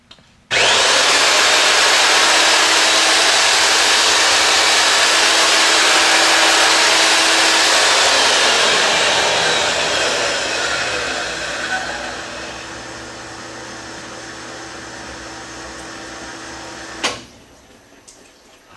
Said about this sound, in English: Now I'm going to redress these cylinders and get those numbers down.